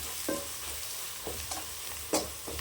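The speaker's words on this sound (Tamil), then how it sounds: "இப்போ நம்ம சிக்கன் மசாலா சேர்த்துக்கலாம். நல்லா இந்த எண்ணெயிலே வதக்கணும்" Chicken masala sautéing in hot oil in a pan for a chicken curry, a low continuous sizzle punctuated by a few sharp scraping stirs, close up and with no talking.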